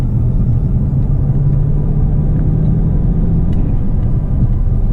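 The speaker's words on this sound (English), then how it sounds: "You get a nice sound from the blow-off valves from those turbos." A Bentley Mulsanne's large twin-turbo V8 pulls hard under acceleration, a steady loud low rumble and whir of engine and road noise filling the whole stretch with no clear separate blow-off valve hiss standing out.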